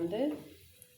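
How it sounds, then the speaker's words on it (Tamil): Cinnamon sticks and cloves frying in hot oil for a Madurai country chicken curry, a short soft sizzle that fades quickly. "ஆயிலில் ஊற்றிட்டு பட்டை லவங்கம் சேர்த்துருக்குறோம். அது நல்லா வறுத்துடட்டும்."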